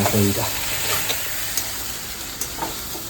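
Steady sizzling of potatoes frying in a pan, with a few soft clinks and stirring sounds; a brief low voice murmurs near the start.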